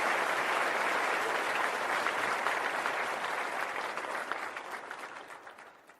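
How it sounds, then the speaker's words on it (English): A live evening audience bursts into applause, a thick roar of many clapping hands that starts strong and gradually tapers off over several seconds. "Let's get some applause."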